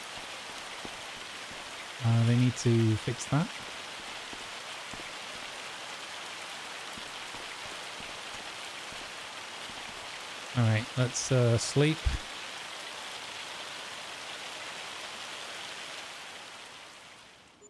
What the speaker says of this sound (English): I don't love that the rain is just as loud inside the house as it is outside the house.